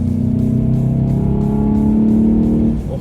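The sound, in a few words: 2021 Volkswagen GTI car driving and accelerating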